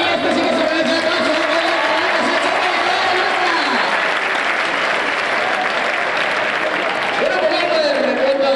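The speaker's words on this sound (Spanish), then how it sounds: "para mí este sí que se merece el aplauso" Audience applause at the El Palo Loco Grand Prix during the San Antolín 2022 festivities in Medina del Campo, a steady, dense, loud clapping that lasts throughout, with a voice heard faintly underneath.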